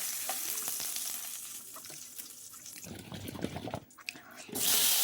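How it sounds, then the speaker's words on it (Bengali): Potatoes drop into hot oil in a pan while a rohu fish and tomato dish is cooked. Quiet kitchen handling and watery clatter come first, then a sudden loud, close sizzle erupts at the very end. "ওই তেলের ওপর দিয়ে দিচ্ছি আলু আলুটাকে একটু ভালো করে ভেজে নেবো"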